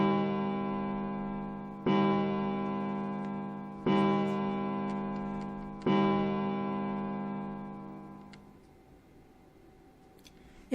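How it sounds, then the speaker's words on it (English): A chiming clock at a central staircase in the video game 999 strikes loudly three times at even intervals, each resonant bell tone ringing out and slowly decaying before fading to near silence. "Somewhere he heard a bell ring. It was a clock at the central staircase."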